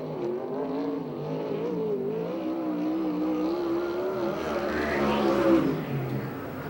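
A USAC/CRA sprint car at Perris, California roars through a qualifying lap, engine note rising and falling as it works around the oval, then swelling as it passes close by.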